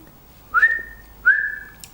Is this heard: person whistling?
yes